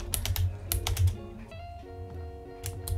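Quick bursts of typing on a computer keyboard while code is entered for a Unity 2D game project, clustered keystrokes near and clear, with pauses between short runs and faint tonal background.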